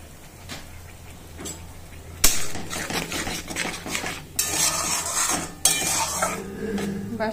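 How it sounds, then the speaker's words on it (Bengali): Spice masala with chili powder is sautéed in a pan. A utensil clatters and scrapes against the metal in loud bursts over a soft sizzle, with no voices. "একটু কষাবো মশলাটা, অল্প একটু কষাবো"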